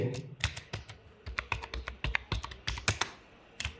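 Quick, uneven clicks of a computer keyboard being typed on up close while entering text in Tally Prime accounting software, with a steady stream of separate key presses.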